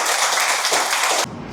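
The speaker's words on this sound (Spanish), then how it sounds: "Vamos a darle un fuerte aplauso al Señor" Dense applause from a church congregation praising the Lord at the close of a sermon, steady and loud, cutting off abruptly near the end into quieter room noise.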